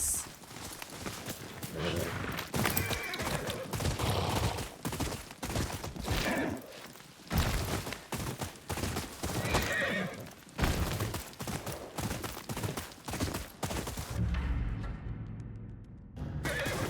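Horse in the game Ghost of Yotei whinnies loudly amid clip-clopping hooves and sharp bursts of combat noise, with repeated neighs and impacts close by and a player voice talking now and then.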